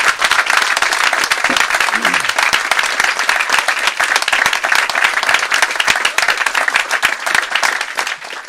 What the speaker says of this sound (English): how about a hand for Jim Popkin?